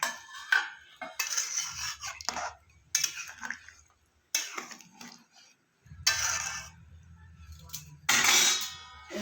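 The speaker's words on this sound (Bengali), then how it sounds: "এবার আমি ভেজে রাখা আলুগুলো দিয়ে দেবো।" Fried potatoes added to a pot of chicken kosha, with a metal spoon clattering and scraping against the pot in several separate bursts between quiet gaps, close and moderately loud.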